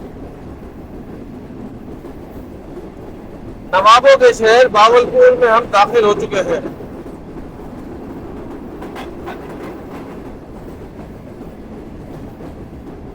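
Shalimar Express train running on the loop line into Bahawalpur railway station, a steady low rumble of rolling carriages throughout, with someone talking over it midway.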